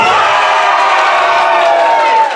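An audience section at a school Transition Year variety show cheers loudly, a dense sustained roar of voices and whoops filling the hall without a break before easing slightly at the end.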